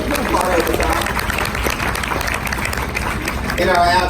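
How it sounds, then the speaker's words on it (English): An audience at a city government event claps, the sound steady and close, with voices talking and calling out over it. "you all give him a round of applause"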